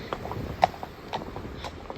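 Horses out hacking give scattered, irregular hoof clip-clops at moderate distance over a steady outdoor background, with no talk.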